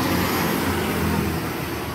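A Praulim company bus pulls into the Divinópolis bus station in Minas Gerais, a steady, close engine rumble with road noise filling the whole two seconds and no voices over it.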